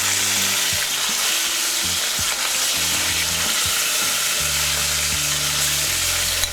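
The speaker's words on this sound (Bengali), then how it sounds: "এবার আমরা এর মধ্যে মাছগুলো দিয়ে দেবো।" Fish frying in hot oil in a pan for fish rezala, a loud continuous close sizzle and crackle with low thumps and clatter underneath, no voices.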